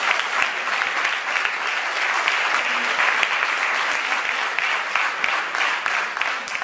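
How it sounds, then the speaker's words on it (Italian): A hall audience at a local sports awards ceremony gives sustained, dense applause, an even roar of many clapping hands with no break. "io li saluterei tutti accomunandoli in un grande applauso"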